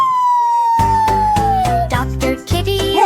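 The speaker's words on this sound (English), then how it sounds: "Just siren sound." A single wavering siren tone glides slowly downward, then rhythmic music with a steady beat comes in beneath it.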